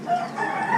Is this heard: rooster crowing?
yes